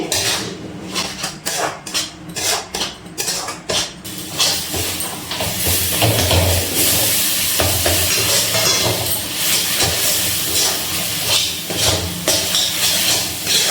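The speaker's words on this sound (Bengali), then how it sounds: "নাড়াচাড়া করে মিশিয়ে নিচ্ছি, আর বেশ কিছুটা একটু জাল দিয়ে দেবো" Ripe palm pulp being stirred and cooked in a pan for a palm-fruit dudhpuli pitha: a steady close hiss and sizzle runs throughout, with scraping stirs and a few spoon knocks against the pan near the start, no talk.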